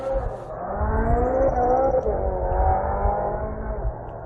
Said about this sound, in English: It's actually a souped-up go-kart.